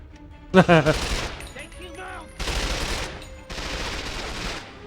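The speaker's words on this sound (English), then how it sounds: "All I hear are some bullets." Gunfire in 007 Quantum of Solace (PS2, Eco Hotel level): a loud opening burst of shots, then two sustained rapid automatic volleys, with someone talking faintly between them.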